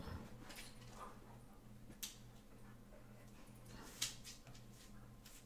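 A dog whimpers faintly in the background of a quiet room, with soft intermittent whines and a couple of small sharp clicks, distant and low in level.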